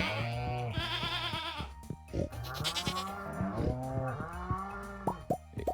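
A cow in the Stardew Valley farming game moos several times in long, drawn-out calls with a few plopping sounds between, loud and close, with no talking.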